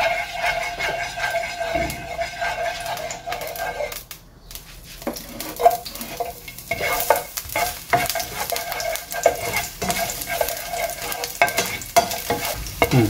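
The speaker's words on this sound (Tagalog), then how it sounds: "Pagka medyo nagba-brown na yung bawang, nagba-brown na siya kung nakikita nyo." Garlic sizzles steadily in a little canola or olive oil as pork is cooked, close and loud, with continuous crackling frying and occasional stirring scrapes of a utensil against the pan throughout, and no talk.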